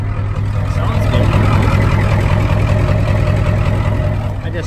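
A 1993 Ford F-250 7.3L IDI diesel engine idles steadily up close, its idle just set lower, a low constant rumble with a faint mechanical clatter running throughout.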